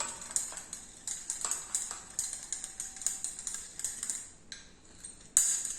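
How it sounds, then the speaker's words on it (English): An acid mixture is stirred in sodium bicarbonate solution in a lab, giving a run of light, irregular clinks and taps against glassware, fairly quiet and close, with one sharper knock near the end. "So stir it for 5 minutes."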